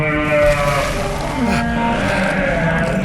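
A Goat Squatch creature in Fallout 76 lets out a wavering, goat-like bleat, loud and close, with a second quieter cry following.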